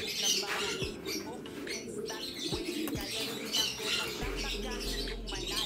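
Pigeons calling up close in a loft or cage, a busy mix of soft coos, squawks and wing or feet scuffling, with someone speaking over them in the same space.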